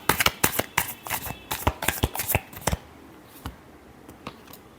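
Tarot cards being shuffled by hand give a quick run of crisp riffling slaps, then a few slower, softer taps as the deck settles, close and clear with no talk.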